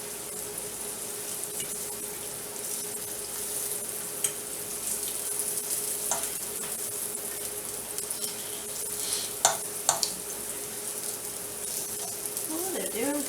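Zucchini, mushrooms and onions sauté in butter in a pan, giving a steady soft sizzle through the whole stretch, with a few louder stirring scrapes and clicks near the end.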